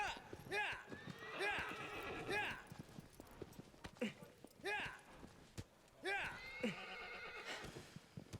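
Horse whinnies and neighs in Shadow of the Colossus rise repeatedly over steady clip-clop galloping hooves, with a voice talking over the game sounds throughout.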